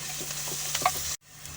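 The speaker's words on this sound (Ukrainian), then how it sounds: "І продовжуємо тушити." Carrots and onions stewing in a pan give a steady, close soft sizzle with faint stirring scrapes, broken by a brief cut to near-silence before the simmer resumes.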